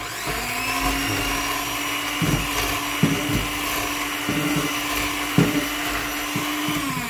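An electric blender runs steadily and loudly as it mixes crêpe batter, with its motor whine holding constant and a few brief knocks and rattles from the spoon or jug breaking through. No one speaks.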